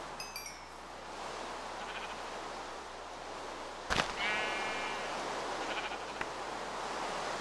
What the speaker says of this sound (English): I threw a sheep in there.